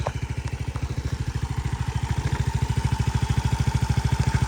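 A Suzuki Address V125 S scooter engine idles close by, its exhaust putting out a steady, rapid, bassy chug that rises slightly in pace.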